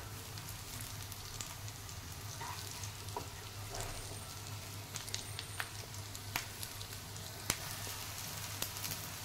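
Aalu vadi, rolled colocasia leaf slices, shallow fry in oil in a pan with a quiet, continuous crackling sizzle. Scattered sharper pops and spits sound close by, with no voices.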